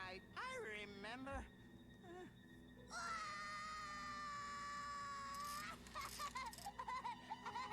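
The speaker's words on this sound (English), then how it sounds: "Why are you screaming?" A character in Psychonauts screams in long, wavering, high-pitched cries, with one sustained wail in the middle, mixed with whimpering sounds and faint background music, fairly quiet overall.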